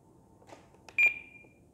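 An E-flite NX6 radio-control transmitter's timer gives a few short beeps, then a loud sustained electronic tone that fades out, heard close up with faint background hiss.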